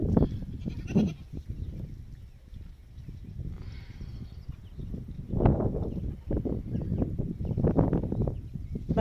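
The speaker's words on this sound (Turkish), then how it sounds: "Bizim keçiler de buradan onlara sesleniyor." Several goats bleat back and forth at close range, calling to other goats kept nearby, with repeated loud wavering cries spread across the whole stretch and quieter gaps between them.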